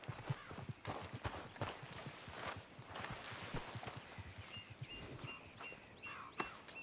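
Horse hooves clip-clop at a steady walking pace in Red Dead Redemption 2, close and clear, with faint birdsong and a few chirps near the end.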